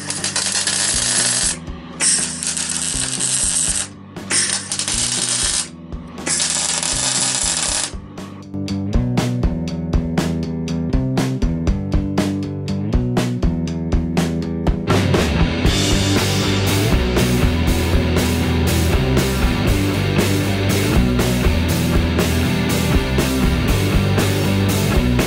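A welder tacks a new steel sheet onto a car's wheel arch in a series of loud, crackling bursts with short gaps between them, then one long continuous sizzle.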